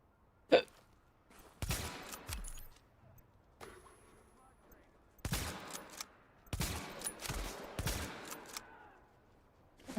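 Gunfire in Tom Clancy's The Division, with sharp short bursts and single shots in irregular clusters, fairly distant and separated by quiet gaps.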